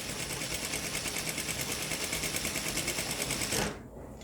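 A sewing machine runs continuously at a fast, even stitching rhythm while sewing fabric for a dress, a close steady mechanical whir that stops abruptly near the end.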